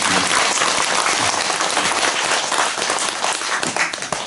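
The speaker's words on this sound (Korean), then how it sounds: "참여하신 스님께 큰 박수로 와주셔서" Audience applause for monks at a Buddhist memorial ceremony: dense, steady clapping from a crowd filling the whole stretch, loud and even, with no speech over it.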